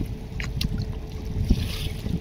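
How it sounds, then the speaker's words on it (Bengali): Passenger launch MV Manik 11 races along a river in Bangladesh toward Dhulia ghat; a continuous rush of wind and water blends with an engine drone and close microphone buffeting. "ব্যাপক স্পিডে সে ধুলিয়া ঘাটের উদ্দেশ্যে যাচ্ছে।"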